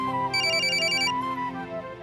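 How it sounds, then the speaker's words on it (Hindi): A mobile phone rings at mealtime, a bright, repeating electronic melody of short tones that is close and clear and stops after about a second, with a steady musical bed beneath it. "अनुजा, ना बेटा ना, खाना खाते समय नो फोन कॉल्स।"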